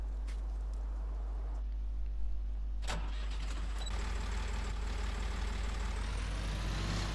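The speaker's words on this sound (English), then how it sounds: "Right, so let's take the tractor off." A tractor engine on a small back-yard farm starts with a sharp mechanical burst and then settles into a steady, close, low-pitched running drone that keeps on without any talk.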